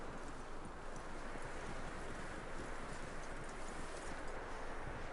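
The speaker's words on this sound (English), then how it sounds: "That looks like a decent horse." Steady hoofbeats of a horse in Red Dead Redemption 2 clip-clop continuously over a dense, even background rumble, with no pauses or voices.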